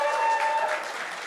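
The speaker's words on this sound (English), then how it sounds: "we need to give a massive round of applause to these 3 amazing people" Brief burst of audience clapping at a conference education track closing session, fairly close and loud, with a faint high tone and some murmuring mixed in.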